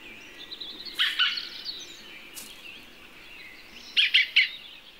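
A bird in a mixed orchard in spring and summer gives harsh scolding calls. One burst comes near the start and a quick run of three sharp, fairly close calls follows later, over quiet outdoor ambience.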